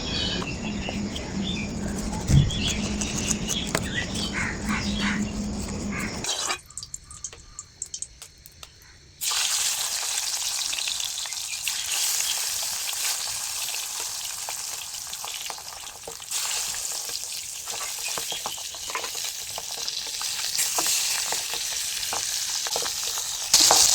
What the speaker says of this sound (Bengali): এই পাবদা মাছটা ভাজতে কিন্তু খুব বেশি একটা সময় লাগে না, অল্প সময়তেই হয়ে যায়